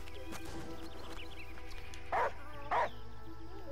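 A dog in the video game Last Day of June gives two short, distinct barks over a steady game music bed.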